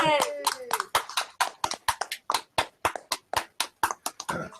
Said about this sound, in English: Give Rich a nice big hand of applause